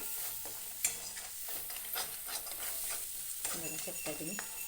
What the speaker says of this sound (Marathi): मसाला छान भाजलत आहे भाजत आहे